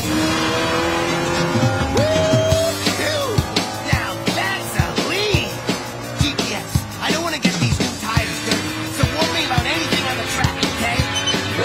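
Animated race cars roar past at speed with long screeching tire squeals and skids, a continuous loud engine drone broken by repeated sharp squeals and rising whooshes over a busy racetrack mix.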